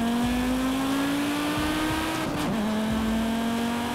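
Car engine in Forza Horizon 5 driven with manual gear changes, no transmission upgrades: a loud, steady engine drone holds a high pitch, dips sharply once for a shift, then settles again, with no talk.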